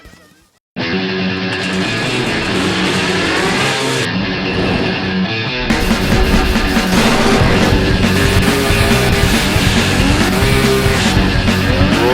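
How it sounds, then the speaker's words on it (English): A modified Polaris 440 IQ snowmobile fitted with a 1200 watercraft engine starts abruptly and screams at high revs, loud and close, its pitch climbing and surging for the rest of the stretch. "Polaris 440 IQ chassis with a 1200 watercraft engine he built himself"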